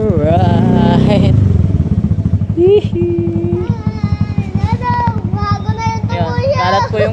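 A Honda Beat scooter fitted with a Hun power pipe exhaust idles and revs close by, a throbbing low putter that rises in bursts over a background of voices and music.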